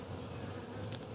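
Bees buzzing around blooming flowers near a Flow Hive, a dense, steady drone of many insects, faint and continuous with no voices.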